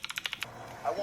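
An AI-generated keyboard typing sound effect gives a quick run of about six crisp, evenly spaced key clicks, close and light, fading into a soft murmur.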